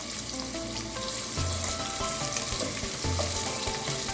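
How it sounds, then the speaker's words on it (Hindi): Onions frying in hot oil for a keema karela dish, a loud, continuous close-up crackling sizzle with a few stirring movements and no speech. "प्याज ऑयल थोड़ा सा गर्म हो जाए, प्याज ऐड करें।"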